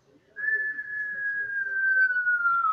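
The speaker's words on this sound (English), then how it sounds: "I heard this cartoon falling sound like a whistle" A single clear whistle slides slowly downward in pitch over a couple of seconds, like a cartoon falling sound, over faint background murmur.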